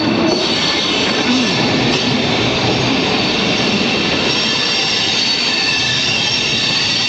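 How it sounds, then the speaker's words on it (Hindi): Mangaluru Express, a train hauled by a WAP-7 electric locomotive, rolls past on the Konkan Railway. Its steady, loud rumble of wheels and carriages with some squeal runs continuously throughout. "वैसे this run is Mangaluru express और इसके पास है रॉयपुरम का वैप 7 करेक्ट।"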